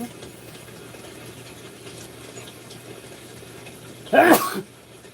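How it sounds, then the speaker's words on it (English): A single sharp sneeze bursts out near the end, loud and close, after several seconds of quiet room hiss. "I'm sneezing."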